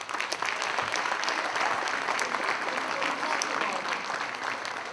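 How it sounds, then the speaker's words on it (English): Audience applause at a 2019 career and technical education awards ceremony, a sustained, fairly distant crowd clapping with scattered sharper claps, steady throughout. "Can we get a big round of applause for Ray Medeiros?"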